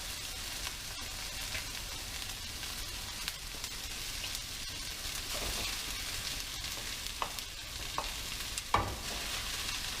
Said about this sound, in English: So now it's time to add the rice.